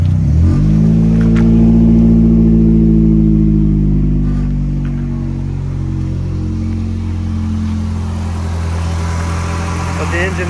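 A 1999 Honda Civic Type R engine with straight-pipe exhaust revs loudly with a deep, raw rumble, rising then settling back toward a throaty idle, close up and continuous.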